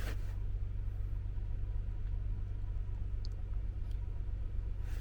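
A car engine idles steadily with a deep, constant low rumble throughout, no talking over it.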